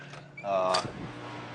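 A door creaks open as someone walks into an industrial motor control center room, a short rising creak with mechanical groaning, heard near and moderately loud, with a voice nearby.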